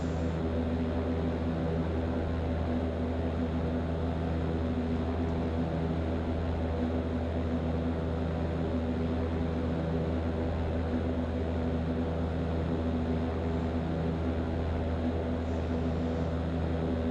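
A Diamond DA40NG propeller airplane in flight in a flight simulator over Lelystad, a steady, loud engine and propeller drone that holds unchanged throughout with no voices.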